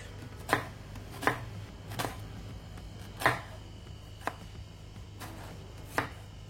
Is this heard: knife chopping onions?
yes